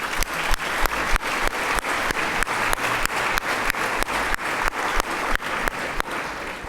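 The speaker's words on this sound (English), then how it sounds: "Another round of applause, please, for our debaters." A debate audience applauds steadily, with a dense, even clatter of many hands clapping that holds throughout and eases slightly at the end.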